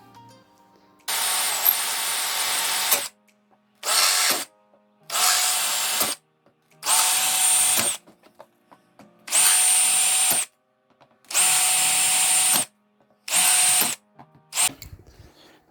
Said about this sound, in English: I'm just basically going to drill for each